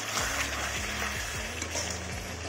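Chicken curry sizzles and fries in a pan as it is stirred, a steady close hiss with repeated scraping strokes of the spoon across the pan, no voices present.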